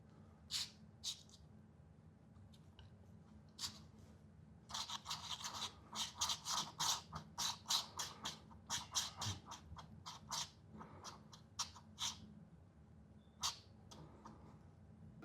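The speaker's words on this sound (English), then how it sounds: "so we're gonna just kind of smooth them on out." Spatula scraping and smoothing melted chocolate chips over caramel on Ritz crackers, a quick run of close, rhythmic scratchy strokes with sparse scrapes before and after.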